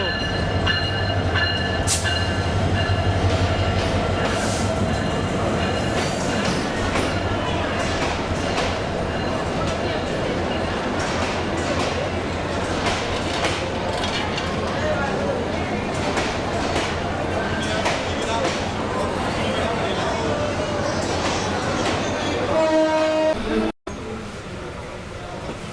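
At a nearly empty station, the red-and-green Kurigram Express rumbles loud and close for a long stretch with clattering wagons. Tonal squeals and horn-like tones come and go, ending in a brief cut near the end.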